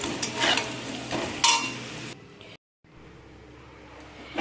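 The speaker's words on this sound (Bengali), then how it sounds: "দেখতেই পাচ্ছেন কত সুন্দর লাল লাল করে আলুটাকে আমি ভেজে নিয়েছি" Potatoes fried in a pan with salt and turmeric, stirred with a utensil: scraping and sizzling up close for about two seconds, then a brief silence followed by a quiet low hiss.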